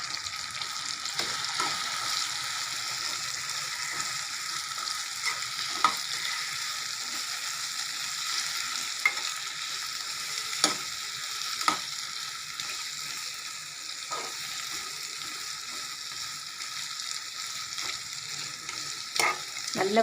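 Onions fry on high heat in a pan with tomatoes for a vegetable kurma, a constant hiss of sizzling oil broken by sharp spoon taps and stirring clicks, with no voice heard.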